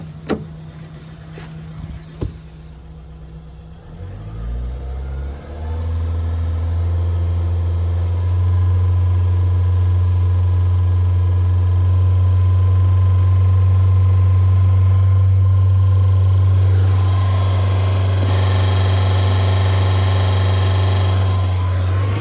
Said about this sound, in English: Please make sure you have the engine running